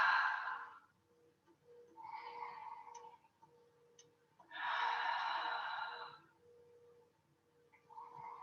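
Deep breathing during a yoga session on a mat: several close, breathy bursts, the longest a slow, steady exhale, separated by short quiet gaps.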